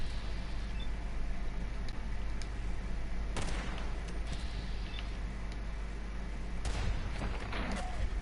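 Bowling ball launcher fired in Fallout 4, heavy booming shots landing twice with deep thuds over a constant rumbling game background.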